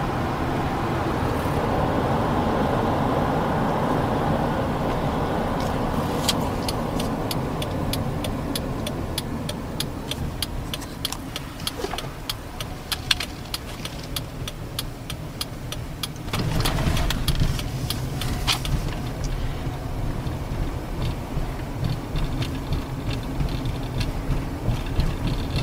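Steady road and engine noise from inside a car on a drive from Ennis to Bozeman, Montana, a constant rumble with scattered ticking and clicking from the cabin throughout.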